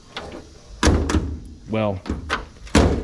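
Doors on a 1965 Datsun 320 pickup truck shut with several solid thunks, close and loud, with someone briefly talking between them.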